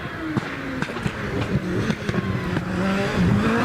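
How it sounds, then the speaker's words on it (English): A V8 hillclimb race car engine screams at high revs, pitch rising and dropping through gear changes as the car climbs past, loud and continuous. "Listen to that screaming V8, doesn't it sound fantastic?"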